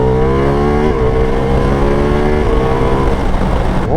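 A Ducati Multistrada V4 Pikes Peak with an Akrapovic exhaust and dry clutch revs hard and loud up close, climbing through rising engine pitches with quick shifts between pulls.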